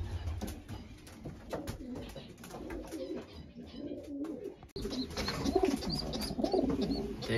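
Pigeon cock cooing to an old hen in a loft, low throaty coos repeating under soft rustling and faint background noise, fairly near.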